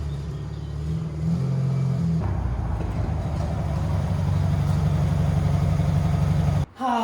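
A custom car engine rumbles and idles, rising in level as it revs and then holding a steady low drone while the car is moved, with a brief dropout near the end.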